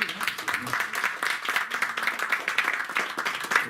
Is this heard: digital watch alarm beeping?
no